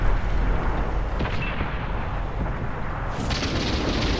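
Centurion tank in World of Tanks on PS4, a sustained low rumble of the engine with several dull booms of cannon fire mixed in, loud and continuous across the whole stretch, with no clear single isolated shot standing out.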